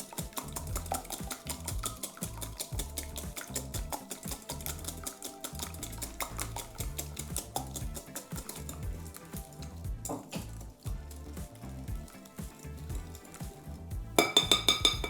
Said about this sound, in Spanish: vamos a ir agregando así poco a poco sin dejar de batir a que se incorpore bien